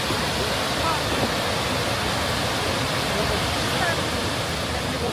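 Sredinski Buk waterfall in Krka National Park sends cascading water down in a dense, continuous roar that stays steady and loud throughout, with no clear voices.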